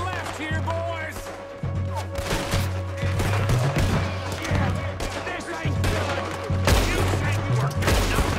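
Rapid bursts of gunfire from a Red Dead Redemption 2 shootout crack repeatedly over a steady low rumble, loud and close, with shouting voices mixed in among the shots.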